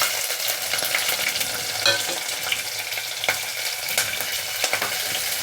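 Whole garlic cloves and slit green chillies fry in hot oil for dal, giving a loud, continuous close sizzle with scattered crackles and a few stirring scrapes.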